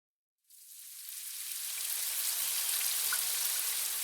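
A steady hiss of rain starts abruptly after a brief silence and builds into a dense, even patter.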